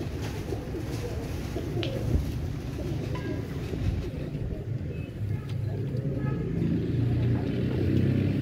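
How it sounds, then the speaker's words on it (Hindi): Domestic pigeons of an Ustad Imam Deen strain cooing in their loft amid a continuous busy rumble of nearby activity, with some faint talk mixed in, moderately loud throughout. "ये कुरीज में है कबूतर सारे के सारे भी।"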